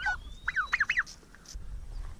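A domestic turkey on a homestead gobbles in a quick rising-and-falling burst, fairly close and clear, followed by a few softer calls and a little low outdoor rumble.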